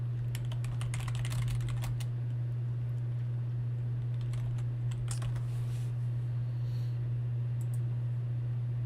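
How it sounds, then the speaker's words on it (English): Computer keyboard typing, rapid irregular clicks in scattered bursts over a steady low electrical hum, fairly faint, with no voices. "I can't see what I'm typing now"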